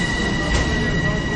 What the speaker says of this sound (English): here comes our train